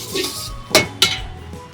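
A spoon clinks twice against a dish while fariyali chivda is tossed with spices, coriander and lemon at a street food stall, two sharp metallic taps over a soft background murmur.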